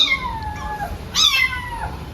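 A cat being held lets out two close, loud meows, the first drawn out and falling, the second sharper and rising, with no talk over them.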